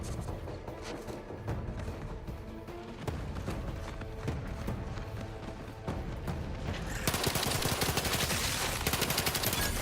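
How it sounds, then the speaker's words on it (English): Full-auto pistol gunfire in The Outer Worlds 2 rattles in rapid, continuous bursts under dense game sound, growing louder and harsher toward the end. "full auto pistol"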